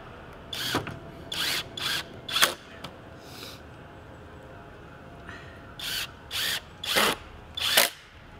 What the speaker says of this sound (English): Freeze it with some screws. Oh look, my impact driver's right here.